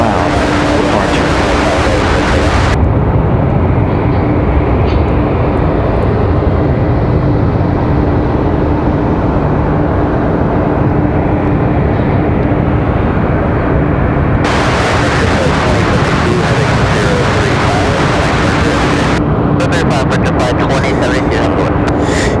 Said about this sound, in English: Departure there for Fallon. It's loud departure.